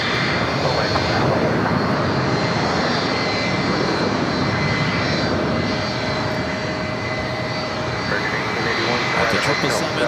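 An airliner's engines roar steadily and loud at LAX as it rolls down runway 25 right, with radio chatter over the top throughout.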